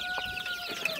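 Siberite chickens and their chicks cluck briefly nearby, a short burst of soft calls with no speech.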